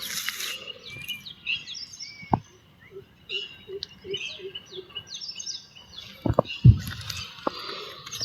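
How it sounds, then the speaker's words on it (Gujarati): Pigeons come to feed on scattered grain in a village yard at night, with chirps and light wing flutters. Several short knocks and scuffs sound nearby. "તો મિત્ર કબૂતર આવી ગયા ખાવા,"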